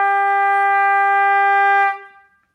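A single sustained trumpet note, A, held steadily for about two seconds, bright and clear, then cut off abruptly.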